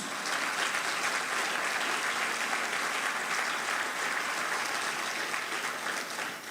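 A church congregation breaks into loud, sustained applause honoring Jesus, a dense continuous clatter of many hands filling the room at steady volume throughout.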